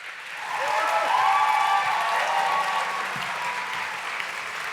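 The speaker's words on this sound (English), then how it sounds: "Please welcome, thunderously applauding as they come to the stage, Caro, Kevin Roose, Alok Vaid-Menon, and Yas" A live audience at the Join the Rebellion (2022) panel event applauds as panelists come to the stage, a broad sustained roar of clapping that swells early and then holds steady, with faint crowd noise beneath.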